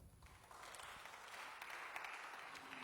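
A conference audience applauds to welcome the moderator of a round table on the French overseas territories, a steady, fairly faint wash of clapping that holds through the whole stretch.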